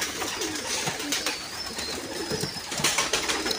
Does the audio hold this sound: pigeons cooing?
yes